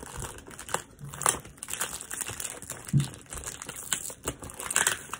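A tightly taped plant package is unwrapped, with close, uneven bursts of crinkling plastic packaging, rustles and short tearing sounds.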